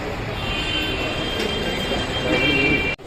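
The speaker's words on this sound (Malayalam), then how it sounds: "ഞങ്ങൾ മെട്രോ സ്റ്റേഷനിൽ എത്തിക്കഴിഞ്ഞു." A train moves through a Delhi metro station with a steady loud rolling rumble, faint wheel squeal and hiss, closing with a sharp abrupt cut near the end; no one speaks.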